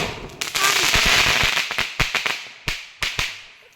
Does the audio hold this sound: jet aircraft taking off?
no